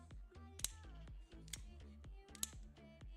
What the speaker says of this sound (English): You can hear the clicking.